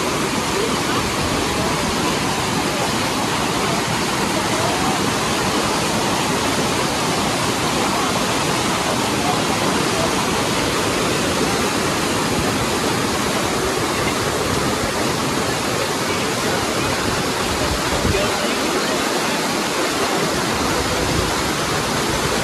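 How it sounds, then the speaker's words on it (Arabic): Loud, continuous roar of a waterfall in Fethiye, Turkey, a dense steady rush of falling water filling the whole clip. "هاي شلالة المي مالتها خيالي، المي نظيف"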